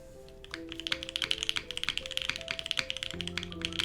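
Rapid clacky keystrokes on a mechanical keyboard, a fast uneven patter of taps, fairly quiet, with faint background music underneath.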